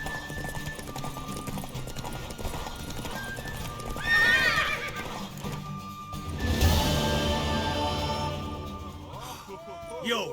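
Horse hooves clip-clop at a gallop during a race in The Witcher 3, with a neigh, game music and voices speaking over the steady beat.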